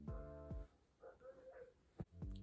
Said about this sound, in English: Right on cue, dogs.